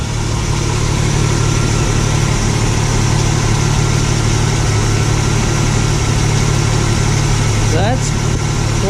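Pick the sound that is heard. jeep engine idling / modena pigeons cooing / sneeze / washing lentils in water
jeep engine idling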